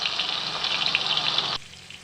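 Potatoes sizzle in hot oil in a kitchen pan, seasoned with turmeric and salt, a dense steady crackling hiss that is close and fairly loud before cutting off abruptly to a quiet hum.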